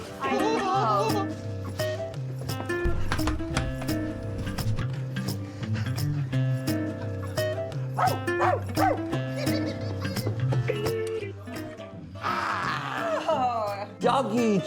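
A cartoon dog barks and yips repeatedly in short bursts, mixed with whimpers, under and between lively character voices and background music in a children's animated delivery show.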